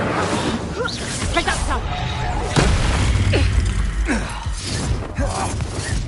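An Incendio fire spell cast in Hogwarts Legacy, a whooshing burst with crackling pops and impacts amid busy combat noise and swooping effects, loud and continuous.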